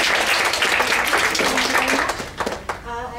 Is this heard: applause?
yes